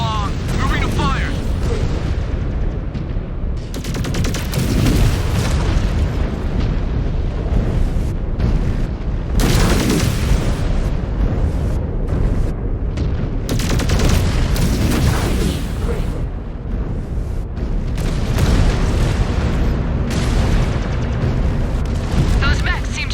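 Mech weapons fire and explosions from the MechWarrior 5: Clans video game come as repeated heavy booms and blasts over a constant rumbling din, with radio-style voices talking throughout.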